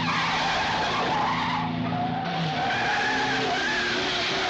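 Tires skid and squeal through a car chase on a hillside road in the James Bond film Dr. No, a loud continuous screech over steady engine roar, close and sustained for several seconds with no talk.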